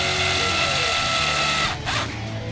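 Small screws and M3 lock nuts are run onto an RC street car's shock tower with a ratcheting power driver, giving a steady close mechanical whir and clatter that dips slightly toward the end.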